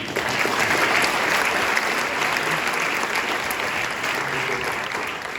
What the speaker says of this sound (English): So please, maybe give a round of applause anyway, even though she's not here, to Daniela Bono.